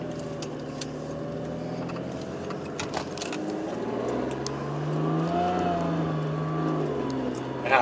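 Ferrari 575 Maranello with an automated manual gearbox driving, engine note rising and falling through revs with a surge near the end, heard from inside the car over faint cabin rattles.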